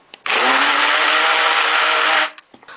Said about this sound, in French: bien enfoncer le mixeur et on pulse